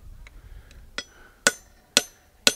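Hammer blows ring out on cherry-red hot metal at an anvil during a Civil War reenactment blacksmithing demonstration, starting with a few light taps and building to four loud, sharp, evenly spaced metallic strikes about half a second apart.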